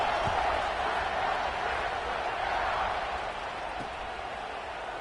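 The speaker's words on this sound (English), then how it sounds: "this crowd is buzzing after that last score" Steady crowd roar fills a college football stadium after a score, a broad constant buzz with faint applause, under a commentator's voice.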